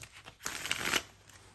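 A deck of tarot cards gets a short, close riffle-shuffle, a soft papery burst lasting about half a second in an otherwise quiet room.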